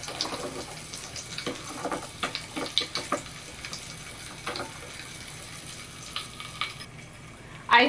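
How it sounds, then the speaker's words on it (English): Small plastic cup of fizzing Pop Rocks solution being stirred, with soft repeated clinks and scrapes over a faint bubbling hiss, close and quiet, ending in a sharper louder rattle. "if you'd like to see your solution bubble faster, then stir it"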